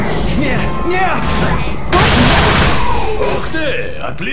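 Gunfire from the zombie shooter Left 4 Dead, loud dense shots and booms over continuous game noise, with players talking and shouting throughout.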